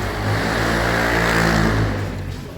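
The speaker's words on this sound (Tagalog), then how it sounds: "Ang ingay ng motor." A motorcycle engine rumbles loudly nearby at a hot spring resort in Laguna, a steady low drone that swells and then fades slightly.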